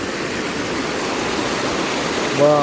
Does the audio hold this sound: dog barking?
no